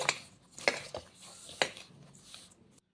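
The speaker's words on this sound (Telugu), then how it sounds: "ఇప్పుడు మొత్తం ఒకసారి కలిపేసుకుందాం మన ఈ బ్రెడ్ పొడి ఉప్పు బొంబాయి రవ్వ అంతా కలిసేలాగా" Bread powder, salt and semolina stirred in a bowl, with several sharp spoon clinks on the bowl and soft scraping, close and quiet.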